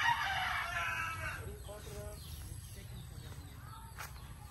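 A neighbor's chicken crows and clucks in a farm setting on Bantayan Island in the Philippines, a loud burst at the start fading into softer clucks over low rumbling background noise.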